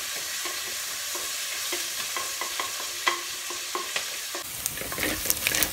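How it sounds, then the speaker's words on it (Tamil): Fresh curry leaves sautéing in a pan for a moong dal and mudakathan keerai kuzhambu, a low steady sizzle under a string of spatula taps and scrapes, busier and brighter near the end, with no voices. "கொஞ்சம் போது ஃப்ரெஷ்ஷான கருவேப்பிலை, இதை நல்லா வதக்கிக்கிங்க"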